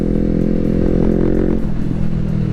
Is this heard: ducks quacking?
no